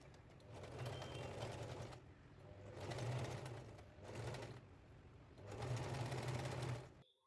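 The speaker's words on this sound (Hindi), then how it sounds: "अब हम इसे दूसरी तरफ से भी इसी तरह से सैंडविच करके सिलाई कर लेंगे" A sewing machine stitches layered laptop bag fabric in a home workshop, running in four steady whirring bursts separated by short pauses, close and fairly quiet, stopping abruptly at the end.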